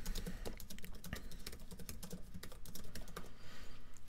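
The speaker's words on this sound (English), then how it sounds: "Now if I type something in" Quick, steady clicking of keys on a computer keyboard, heard close and alone for a few seconds of continuous typing.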